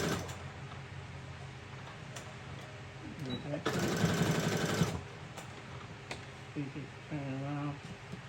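A sewing machine runs a short back stitch on a burp cloth, giving a steady mechanical whir for about a second amid quieter handling noises, while a person talks nearby.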